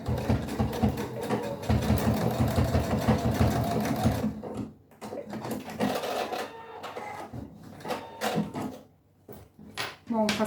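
Sewing machine stitching a small fabric bicycle-themed pouch: a close, rapid mechanical chatter that runs steadily, then breaks into shorter bursts with brief pauses, with a voice talking faintly underneath.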